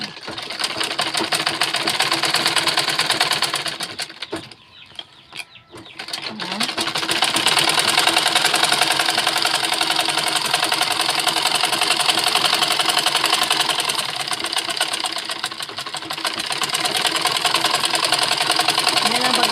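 A sewing machine stitches a sandal in a continuous loud mechanical whir with a rapid steady rhythm. It pauses briefly, then runs on.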